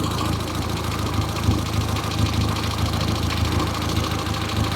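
A Peugeot 106 Sport with a modified setup idles steadily, its engine a continuous low rumble with an even pulsing throb and no voices over it.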